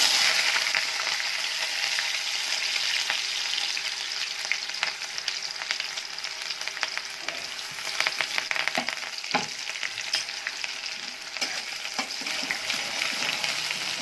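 Onion sautés in two spoons of oil with curry leaves for a masoor-moong dal and potato curry, a continuous close crackling sizzle with occasional spatula scrapes, loud and even over the whole stretch, with no talking.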